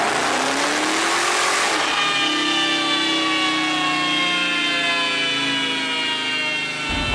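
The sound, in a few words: 2017 Dodge Challenger Hellcat engine revving on a dyno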